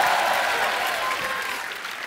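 Studio audience at a TV comedy show breaks into loud, dense applause, a brief full burst of clapping that tapers only slightly over two seconds.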